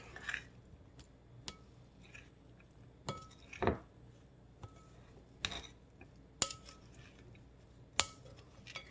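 Garlic powder and cumin being stirred together in a dish, a sparse series of light clinks and taps from a utensil against the bowl, several distinct knocks spread out over a quiet background.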